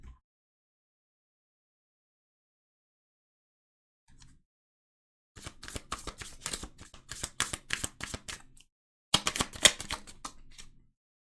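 Tarot cards being shuffled and drawn, with close, rapid riffling clatter in two bursts of several seconds each, separated by silence, with no talking over them.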